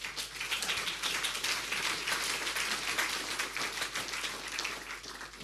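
Audience applause following a DrupalCon Munich 2012 conference talk on Drupal 8 multilingual features, a steady dense wash of clapping from a large hall lasting throughout at even strength.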